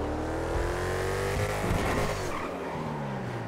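A Demon car in GTA 5 revs hard and drives off with screeching tire squeal, a loud continuous engine roar that rises and shifts pitch as it accelerates along the street.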